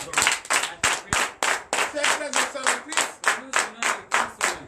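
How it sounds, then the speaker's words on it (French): A church congregation at a night prayer and prophecy service claps in a fast, regular rhythm, each clap sharp and distinct, with faint voices underneath. "Donc je vous demande d'applaudir très fort"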